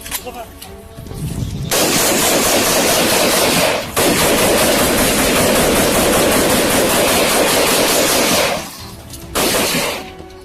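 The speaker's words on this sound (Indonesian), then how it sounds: "Merangkak dan diberondong peluru asli." Sustained live machine gun fire rattles loudly and continuously over soldiers crawling in a military training exercise, with brief pauses before the long barrage resumes and then cuts off.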